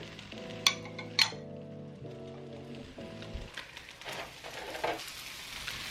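Lobster stir-fried with ginger and scallions sizzles softly as it is tossed, with a couple of sharp metallic clinks early on and steady frying hiss taking over in the second half beneath a held tonal hum.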